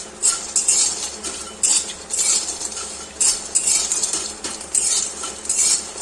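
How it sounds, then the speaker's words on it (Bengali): A metal spatula stirs lentil dumplings (bori) frying in oil in a pan, making repeated close scraping and clinking strokes in irregular bursts over a faint background sizzle. "বড়িগুলো একটু লালচে করে ভেজে নেবো আগে।"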